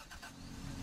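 A truck engine in a video game gives a short, steady low rumble, close and moderately loud, with no voices over it.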